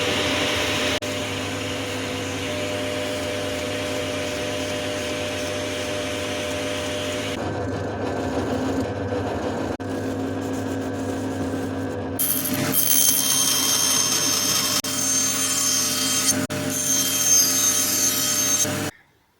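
A printer runs continuously while printing a part, producing a steady mechanical whir and hum that shifts in tone partway through, with intermittent clicks, close and fairly loud until it stops abruptly.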